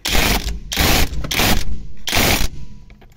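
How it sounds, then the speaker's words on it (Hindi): A power tool tightens a bolt on a Hyundai Accent during a steering repair, four loud close rattling bursts of the impact tool separated by short pauses. "अब इसको बोल्ट को टाइट कर देता हूँ मैं और इस मशीन से आसानी से टाइट भी हो जाता है"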